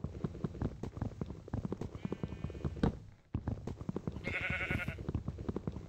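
Minecraft sheep bleating in a video game, several short blocky bleats mixed with rhythmic clip-clop-like footstep sounds and a brief higher chime, with a sudden cutoff midway.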